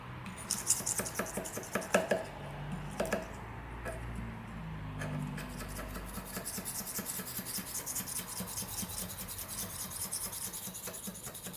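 A fresh blade scrapes hardened filler from a repaired joint and filled chips on marble or granite stone, giving a steady dry rasping and rubbing texture throughout, with sharper scratchy strokes near the start.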